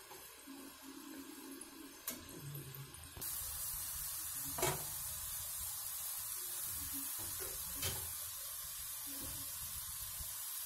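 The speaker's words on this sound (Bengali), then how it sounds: "একটু কম করেই ভাজবো, তাহলে ভেতর অবধি ভাজা হবে।" Chhana-chire puli dumplings fry in oil with a faint, steady sizzle that grows fuller partway through, broken by a few brief clanks and stirring sounds, quiet and close.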